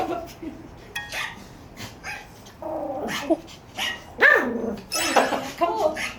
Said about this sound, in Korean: 강아지 짖는 소리입니다.